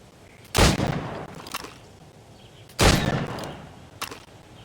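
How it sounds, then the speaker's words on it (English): Gunshots fired at targets in Assassin's Creed Rogue: two loud booming shots a couple of seconds apart, each with a trailing rumble, plus a softer pop near the end over quiet game ambience. "Go on. Shoot these targets."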